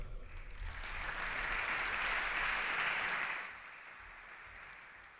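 An audience at a public speech at the Prasanthi Nilayam campus claps, with a steady wash of applause that swells, holds for about three seconds, then fades away.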